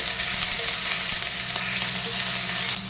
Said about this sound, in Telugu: పచ్చిమిర్చి వేగుతుంటే అల్లం వెల్లుల్లి పేస్ట్ కొంచెం వేయాలి